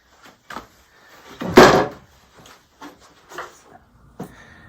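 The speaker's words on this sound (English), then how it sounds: "Let's get these drawers out of the way" Wooden drawers slide and bump out of a cabinet, with one louder scraping pull in the middle and several short knocks around it.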